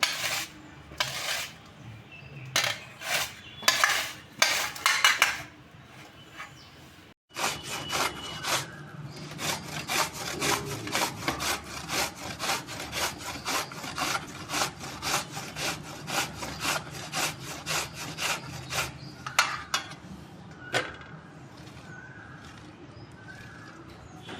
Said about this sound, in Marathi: कैरीची साल काढून झाल्यानंतर आपण ती किसून घेऊ